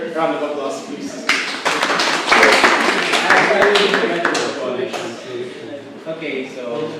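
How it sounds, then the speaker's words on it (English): A student legislative assembly gives a round of applause: a dense burst of many hands clapping swells for several seconds and then thins into scattered claps, with a few voices nearby. "Round of applause, please."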